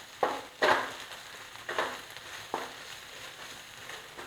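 Chilli, coriander, turmeric and cumin powders sauté in a pan for rajma gravy, with soft sizzling and a few sharp scraping stirs of a spoon recurring roughly every second, close by and with no talk.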